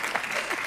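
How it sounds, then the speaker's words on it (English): Brief burst of audience applause at a talk event, a crowd clapping loudly and steadily for under a second with some voices mixed in. "we can clap for that"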